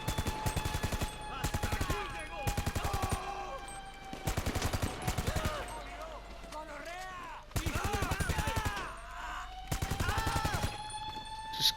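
Bursts of automatic gunfire in GTA V, loud rapid volleys in several clusters separated by short pauses, with a voice talking between and over the shots.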